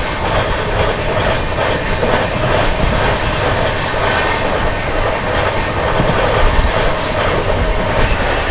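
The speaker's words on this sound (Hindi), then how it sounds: "इसी के पीछे पीछे आ रही है हुजूर साहिब नांदेड़ अमृतसर सचखंड एक्सप्रेस" The Amritsar Sachkhand Express rolls past loudly and close on an Indian railway line, a continuous dense roar of wheels and carriages with rhythmic clickety-clack throughout.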